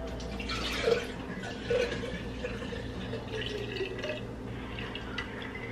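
Coconut water trickles and drips out of a tipped young coconut, soft liquid splashes and drops close by over a faint steady background hum.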